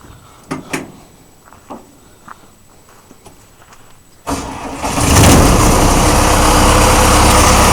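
A John Deere 1042 combine harvester's engine cranks and fires at close range after a few quiet knocks and footsteps, then settles into a loud, steady roar that fills the rest of the clip.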